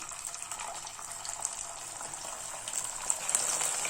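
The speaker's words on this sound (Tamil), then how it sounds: "இப்போ காலிஃப்ளவரை இதில் போட்டு நம்ம பொரிச்சு எடுத்துடலாம்" Cauliflower pieces for Gobi Manchurian are dropped into hot oil to deep fry, giving a continuous bubbling, hissing fry that grows slightly louder toward the end, heard alone without speech.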